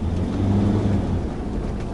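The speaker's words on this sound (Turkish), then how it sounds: "Şimdi termiğim çalışıyor. Bir kamyon sesi gibi böyle." SsangYong Kyron diesel engine idling with its radiator fan running, a steady, close, low truck-like rumble that holds constant with no change in revs.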